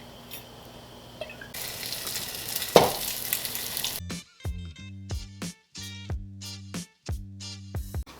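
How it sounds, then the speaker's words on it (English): Spinach sautés in a pan, a bright hissing sizzle for a couple of seconds that then cuts off. A series of short, evenly spaced tonal bursts follows. "sauteed spinach as a side"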